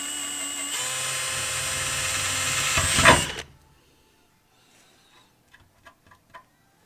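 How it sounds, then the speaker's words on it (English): A power drill whines loudly and steadily for about three seconds while drilling a hole where a punch mark was made for a rock light install, then stops abruptly, followed by a few faint clicks and taps. "And then I'm going to drill where I punched it at."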